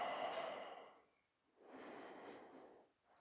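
Breath released slowly during a yoga spinal twist, two long soft airy exhalations separated by a brief pause, close and fairly quiet, with no talking.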